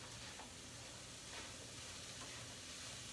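Vegetables fry in butter in a pan over high heat, a faint steady sizzle and hiss with soft stirring scrapes, no talking.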